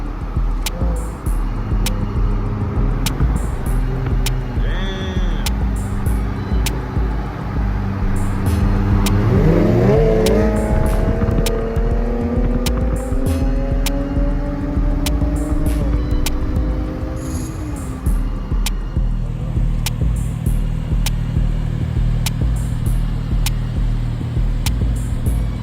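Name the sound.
loud car with 5.7 engine driving past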